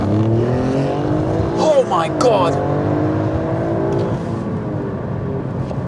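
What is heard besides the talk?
Alfa Romeo Stelvio Quadrifoglio accelerating hard in race mode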